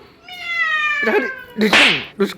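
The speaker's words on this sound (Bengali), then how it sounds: "ম্যাও কর ম্যাও কর" A cat gives a drawn-out, clear meow followed by a couple of shorter, harsher cries, loud and close, with brief human voices in between.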